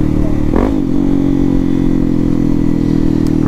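Honda XRE 300 motorcycle with a Dore exhaust, carrying a passenger at night, running loud and close with a steady engine drone and a brief burst near the start, as if throttle held for exhaust pops.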